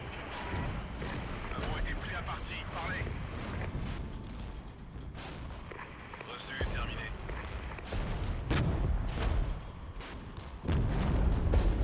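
Mortar and napalm strikes in a WWII-era strategy game (Regiments, Winds of Change), a steady run of dull booms and crackling blasts under a constant battle din, with a heavier rumble near the end.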